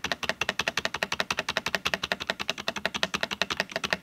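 Rapid, steady hammering of the spacebar on a Royal Kludge RK84 wireless 75% mechanical keyboard: dozens of close, even clacks in a fast unbroken rhythm, with no talking.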